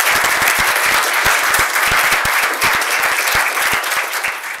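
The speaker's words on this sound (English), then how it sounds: "Please join in me applauding Michael for his great contribution to the GA." Audience applause at a GA chairman's introduction, honouring Michael: dense, steady clapping from a large crowd throughout, fading slightly toward the end.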